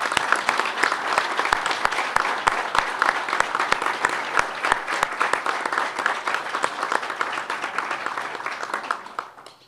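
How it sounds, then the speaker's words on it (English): A large audience at a college special event gives a steady round of applause for the team, with a few sharp individual claps standing out, before the clapping dies away at the end. "So I want to ask everybody just a short round of applause for our team."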